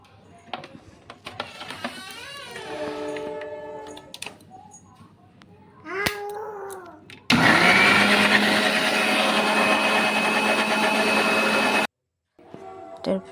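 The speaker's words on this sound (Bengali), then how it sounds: "মিক্সার গ্রাইন্ডারে পেস্ট করে নেব। এখানে এরকমভাবে মিক্সারে দিয়ে দিলাম।" A mixer grinder blends homemade baby food with a little rice into a paste. It whirs loudly and steadily for about four seconds before stopping abruptly, after earlier clatter and a speaking voice.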